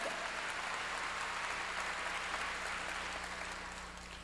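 Steady, dense applause from a church congregation during a sermon, a broad even wash of clapping that holds for several seconds and eases slightly at the end, with no voices over it.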